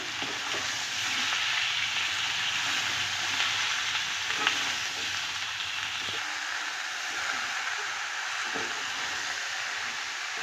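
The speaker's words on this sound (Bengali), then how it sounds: "এবারে কেটে রাখা লাউটা দিয়ে দেব। নেড়ে চেড়ে মিশিয়ে নেব।" Chopped bottle gourd with green chillies fries in a pan with a steady sizzle, while intermittent scraping stir strokes sound close by and no one speaks.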